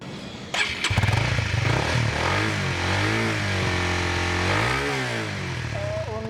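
A 2016 Honda CBR 150R motorcycle with a stock exhaust and catalytic converter starts up and settles into a loud, close idle. Several smooth throttle blips make the engine rise and fall in pitch, and a brief voice is heard near the end.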